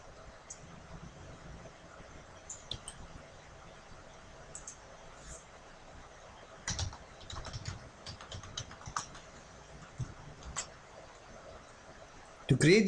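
Keystrokes on a computer keyboard as a Cisco IP phone configuration command is typed, quiet scattered clicks in bursts over a faint background hiss, with a sharper louder patch at the very end.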